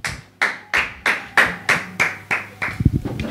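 A congregation at a church prayer service claps together in a steady rhythm, about nine sharp, loud claps spaced roughly evenly, ending in a looser scatter of hand sounds.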